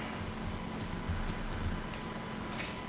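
Fingers type on a computer keyboard in quick, uneven clicks, a steady close-up patter with no one speaking.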